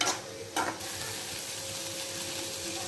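Coconut stirred into a broad bean curry in a pan, a low, even sizzle after a couple of brief scraping stirs at the start, quiet and close, with no speech.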